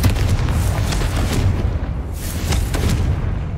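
Confringo spell explosion in the video game Hogwarts Legacy: loud, booming fiery blasts with deep rumble, a couple of sharp cracking bursts rising over a continuous low roar.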